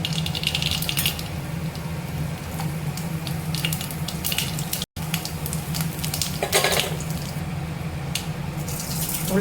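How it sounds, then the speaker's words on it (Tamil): Mustard seeds frying in hot oil crackle and sizzle steadily in a pan, with scattered sharper pops, close and fairly loud, with no talk. "கொஞ்சம் எண்ணெய் காஞ்சிருச்சு, கடுகு சேர்த்துக்கலாம்."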